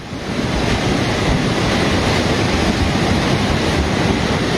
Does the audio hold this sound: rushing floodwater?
yes